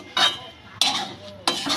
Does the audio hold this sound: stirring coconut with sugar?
yes